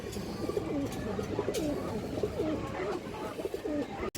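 Pigeons cooing at a pigeon farm of Indian high-flyer and Giribaz breeds, with a female Sapchila among them; soft repeated coos come in a steady rhythm from close by, alongside faint chirps and background rustle.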